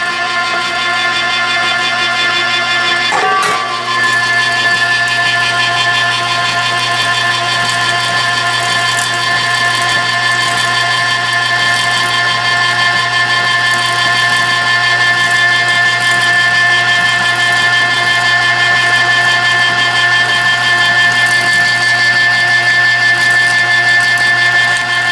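A Cabela's electric meat grinder grinding venison runs with a steady, loud motor drone and a constant whine for the whole stretch, with one brief knock early on.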